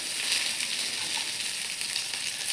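Mustard seeds, chili thecha and finely chopped cabbage fry in hot oil, giving a steady, close, bright sizzle and crackle that holds evenly throughout with no talking.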